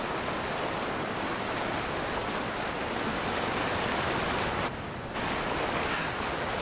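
A video game waterfall in Avowed pours with a dense, steady roar that fills the space. The roar drops out briefly near the end and then comes back.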